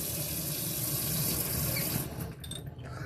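A tap runs in a steady, close, full stream for about two seconds, then cuts off, leaving a few faint drips and clinks.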